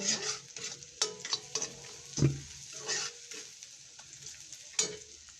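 Spice paste frying in a pan for chickpea curry, with repeated stirring strokes scraping through a steady sizzle; close and moderately loud, stirring bursts recurring every second or so, no talking.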